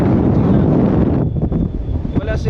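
Strong force 7 to 8 wind buffets the microphone in a dense roar on the Strait of Magellan, easing a little partway through, with a voice briefly audible underneath.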